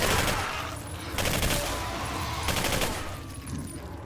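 Rapid gunfire from an AR-9 Valkyrie rifle in the Singularity video game, heard as dense bursts of automatic shots in loud clusters over a continuous roar.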